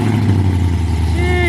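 A Chevrolet Colorado truck with long tube straight headers and ported heads idles loud and close, with a steady deep drone and a choppy, lumpy pulse.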